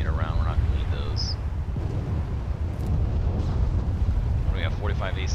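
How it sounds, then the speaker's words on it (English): Bombs detonating across a battle royale video game map give a steady low rumble with scattered dull booms, mid-distance, under a voice talking and brief high whistling tones. "That's those are some bombs going off."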